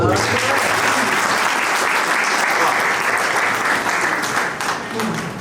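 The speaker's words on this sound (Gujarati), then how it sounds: "તાળી હોવી જોઈએ।" Sustained audience applause at a family trip gathering, a dense steady patter of many hands clapping close and loud, tapering slightly near the end.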